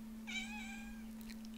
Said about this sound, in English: Our needy cat, Rhea.